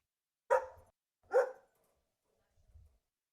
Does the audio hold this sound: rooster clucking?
no